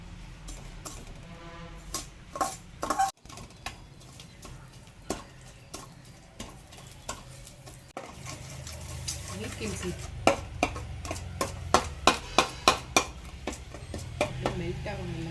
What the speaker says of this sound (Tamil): ஃப்ளேமில் வச்சு நம்ம இந்த மாதிரி கிண்டிகிட்டே இருக்கணும்